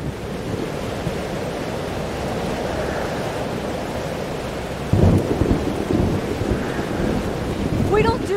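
Thunderstorm in the video game Life is Strange: Double Exposure, with loud steady rain and a rolling rumble of thunder that swells sharply partway through and carries on to the end, no talking.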